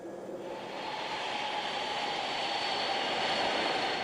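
A Boeing 747 jet airliner takes off with a broad, steady roar of jet engines that builds gradually in loudness over several seconds, heard at a distance with no voices.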